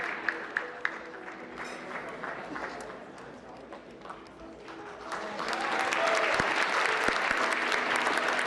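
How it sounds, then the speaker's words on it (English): Audience at the White House Correspondents' Dinner claps, starting with scattered claps and swelling into dense, loud applause toward the end. "let's give him another huge round of applause."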